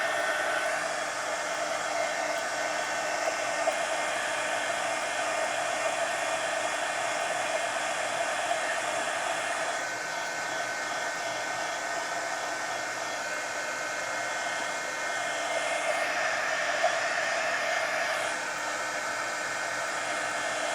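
Hair dryer blowing steadily to dry thinned paint on a mermaid mixed-media napkin journal page, a loud, continuous airy whoosh with small shifts in tone as it moves.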